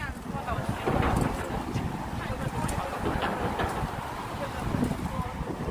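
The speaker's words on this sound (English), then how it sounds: "it's really windy." Strong wind buffeting the microphone on a street in Brooklyn, a loud continuous rumble with gusts, and a person talking underneath.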